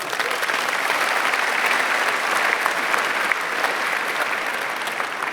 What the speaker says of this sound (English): Round of applause for both.